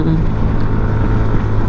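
A loud, steady Yamaha NMAX 155 motorcycle engine rumble runs close by throughout, a dense low drone with no clear pauses.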